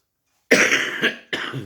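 Two harsh coughs close up from a person with an irritated throat, the first longer and rasping, followed a moment later by a shorter one.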